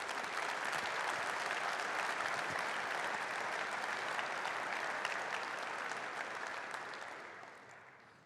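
Broad, sustained applause from a large keynote audience at a Kafka Summit conference in London, dense and even for several seconds before gradually tapering off at the end.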